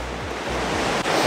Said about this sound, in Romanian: Dar în partea stângă avem oceanul.